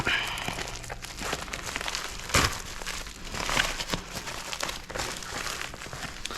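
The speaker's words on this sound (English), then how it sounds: "let's cut her open" Packaging for an airsoft uniform is sawn and torn open with a dull knife, producing close, quiet crinkling and scraping with a few sharper bursts of plastic tearing.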